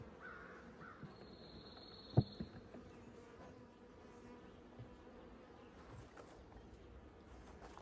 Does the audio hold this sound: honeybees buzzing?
yes